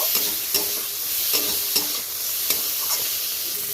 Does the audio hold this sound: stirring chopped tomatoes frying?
yes